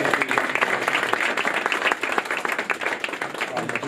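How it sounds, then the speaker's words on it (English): A room at a post-fight press conference for a fighter breaks into a round of applause, clearly separated close claps forming a lively, uneven patter with a few crowd murmurs mixed in. "round of applause for George, everyone."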